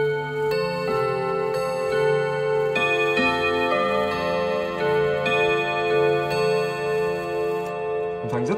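Odo 54/10 pendulum clock chiming, a sequence of ringing bell-like notes struck in steady rhythm with long sustained overtones, loud and close, no speech.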